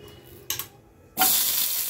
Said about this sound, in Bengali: এই যে সবজিটা ভেজে নিতে দিয়ে দিয়েছি